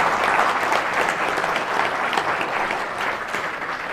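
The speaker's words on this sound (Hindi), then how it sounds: "जोरदार तालियों से स्वागत।" Enthusiastic applause from an audience at a Hindi-language gathering as a speaker is welcomed, dense, steady clapping throughout without speech.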